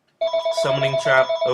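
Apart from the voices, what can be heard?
telephone ringing with an incoming call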